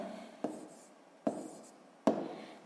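Three short, faint scratching strokes of a pen writing math on paper, spaced about a second apart in a quiet room.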